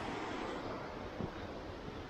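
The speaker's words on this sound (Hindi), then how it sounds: "आप लोग को पानी का आवाज़ आ ही रहा होगा" River flowing near a monastery trail in Nepal, a steady broadband rush of water heard at a distance, blended with wind buffeting the microphone and no voices.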